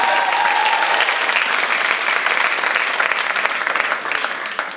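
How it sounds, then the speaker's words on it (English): A dense, sustained wash of audience applause greets the judges at a live event, loud and even throughout before tapering slightly at the close, with a brief voice at the start. "give them a little round of applause as they make their way up"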